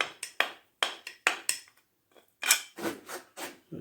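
A screwdriver breaks knockouts out of an electrical box in a series of close, sharp metallic clicks and scraping bursts, some quick and isolated, others grouped in rough rhythmic scrapes.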